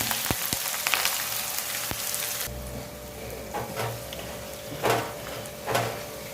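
Three sliced onions fry in hot oil for chicken dum gosht, giving a loud, close sizzle that drops to a softer hiss midway, broken by a few scraping bursts as the pan is stirred.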